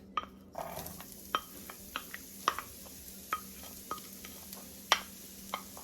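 Onion and garlic sautéing in butter and a little olive oil, a faint steady sizzle broken by scattered sharp clicks and scrapes of a utensil stirring in the pan, with no talking.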